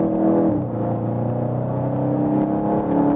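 A Volkswagen Golf GTI in sport settings drives under steady engine load, a close, constant droning hum from inside the car with a slight dip and recovery early on; no talking.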